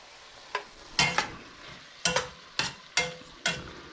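Rice, salsa, garlic and oregano are stirred together in a pan, giving a series of irregular scraping knocks of a spoon against the pan over a faint background hiss, with no talking.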